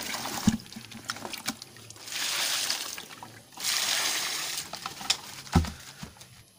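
Water poured over a black sapote tree while watering plants in a garden, heard as soft trickling and splashing that swells in two longer bursts with a few sharper splatters.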